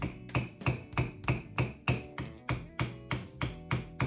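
Steady, rhythmic hammer blows punching holes through a leather belt strike about twice per second, each a sharp tap with a short ringing tail, close by.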